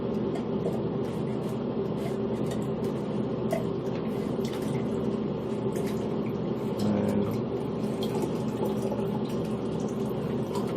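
Water pouring steadily from the nozzle of a water bulb into a glass or tub, a continuous close trickle and splash holding at an even level throughout.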